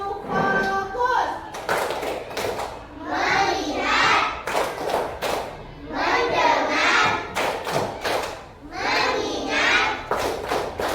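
A primary class claps a rhythmic concentration pattern, bursts of hand claps and desk thumps alternating with children chanting words in unison, loud and close in a classroom.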